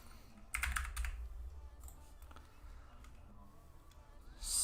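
Loud, clattering typing on a computer keyboard sounds close by, with a dense burst of keystrokes early on, then scattered taps, ending in a sharper flurry. No one speaks.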